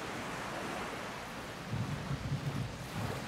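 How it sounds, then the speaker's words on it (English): Rain in the survival video game Project Castaway gives a dense, steady wash of noise. A low rumble swells in the second half, and nothing else is heard. "it's raining and my water collector is going to start filling up with water"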